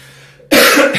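One short, loud cough bursting out after a quiet moment, heard close.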